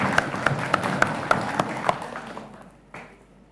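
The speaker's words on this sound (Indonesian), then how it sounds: "Tepuk tangan Dewan Dewan Juri." A school quiz competition crowd claps in brisk, even rhythm, about seven sharp claps spaced a fraction of a second apart, then the clapping thins out and fades away.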